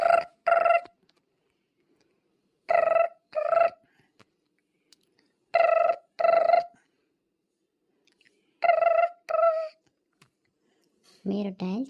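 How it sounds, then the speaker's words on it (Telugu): On an outgoing telephone call the ringback tone sounds in paired double rings, about four pairs spaced a few seconds apart with silence between. A voice starts at the end. "ఒకసారి ఫోన్ అన్నా చేద్దాం."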